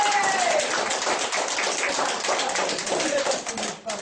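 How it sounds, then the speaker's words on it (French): Audience applause at a theatre improv festival, a full dense burst of clapping from a sizeable crowd that fills the whole stretch, with faint cheers mixed in before it starts to fade. "Et on s'applaudit!"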